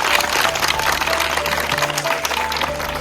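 A crowd claps to welcome student performers of an NSS street play about the dowry system, a thick continuous wash of applause over a faint steady electrical hum.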